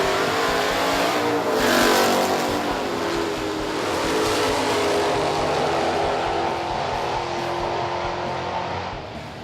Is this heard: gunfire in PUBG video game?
no